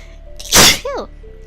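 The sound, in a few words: sneeze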